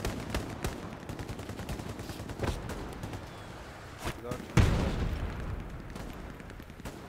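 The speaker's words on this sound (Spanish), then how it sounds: "artillería" Artillery fire in the World War II shooter Hell Let Loose: scattered sharp gunshot cracks and distant thuds, then a heavier booming impact near the middle, with voices talking over the battle.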